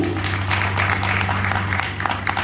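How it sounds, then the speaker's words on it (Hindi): Applause from a seminar audience in Sirathu, Kaushambi, cheering a speaker: loud, dense clapping filling the room, steady throughout with a low hum beneath. "विजय केसरवानी सर के लिए एक जोरदार ताली"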